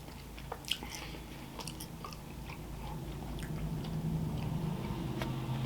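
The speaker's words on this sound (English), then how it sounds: "So I'm gonna try a fry." A Wendy's french fry being bitten and chewed close to the mic, a few soft crunchy bites followed by quiet mastication against light background noise.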